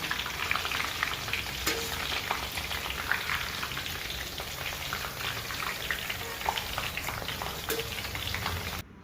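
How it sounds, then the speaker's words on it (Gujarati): Green mint-flavoured papdi frying on a hot griddle, a steady dense sizzle running throughout at close range with a few sharp clicks as the pieces are turned, no voices present. "તવી સાથે આવી રીતે લોટ ઉછળી નાખવાનો પાપડીને ફેરવી નાખીશું"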